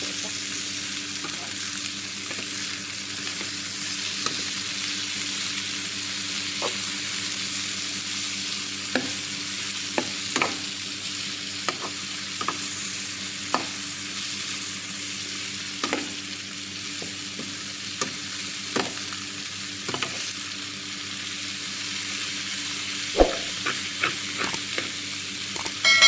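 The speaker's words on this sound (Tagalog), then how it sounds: "Haluin lang natin para maluto ito." Eggplant and purple cabbage sizzle steadily in a pan while a utensil stirs them, scraping and clicking at irregular intervals over the continuous frying hiss.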